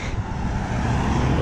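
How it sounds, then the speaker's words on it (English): Cars passing along a road beside a runner, a steady broadband traffic rumble that stays loud and continuous throughout with no voices. "Where do those cars go?"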